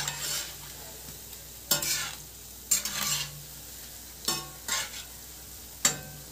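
Wheat flour and jaggery fritters frying in hot oil make a soft, steady sizzle close by. Roughly six brisk scraping stirs cut through it at uneven intervals, with no talking.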